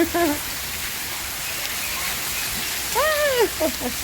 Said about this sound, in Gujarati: અમારા ત્યાં ધોધમાર વરસાદ પડી રહ્યો છે